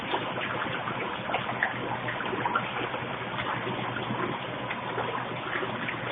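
A Hoover 0519 Deluxe washing machine agitates soapy water in a continuous sloshing, churning wash. The sound is steady and moderately loud, without speech.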